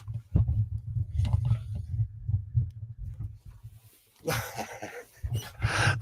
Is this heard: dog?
yes